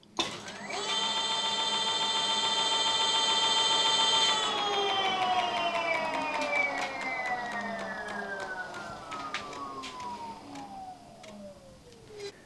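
A Magic Pie 5 electric front hub motor on an e-bike kit spinning under throttle, giving a loud steady high-pitched electric whine that then falls steadily in pitch as the wheel coasts down, with a few faint ticks.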